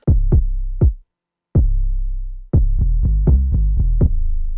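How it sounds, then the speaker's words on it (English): Deep 808 bass with kick drum in a hip-hop beat: punchy booming hits with long low sustains, a bouncy pattern of several strikes, a brief gap, then a faster run of hits, loud and alone. "the 808 and the kick coming together in the song"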